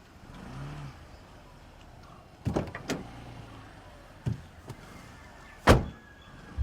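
People climb into a car, with several solid door thuds and slams spread over a few seconds against a quiet idling background.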